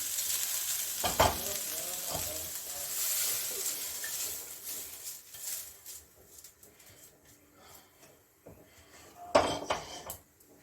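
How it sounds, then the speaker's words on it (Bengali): Grated carrot frying in a pan for carrot kheer, a continuous close sizzle with stirring and a couple of loud utensil clanks against the pan near the start and end. "দেখো হালকা কালারটা চেঞ্জ হয়েছে, আমি এখন নামিয়ে দিচ্ছি, আর ভাজবো না।"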